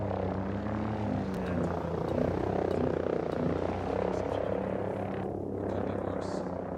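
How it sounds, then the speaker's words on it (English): A helicopter in the video game Ghost Recon Breakpoint gives a steady droning engine and rotor rumble, with scattered clicks and short game sounds over it and no speech. "Chopper smoked out."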